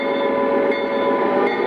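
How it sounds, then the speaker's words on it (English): An O gauge model EMD SD38 diesel locomotive hauls a resin and plastics freight train, giving off a steady, close motor hum with a faint whine and no pauses. "right now we are moving a EMD SD38 which is headed a resin and plastics train"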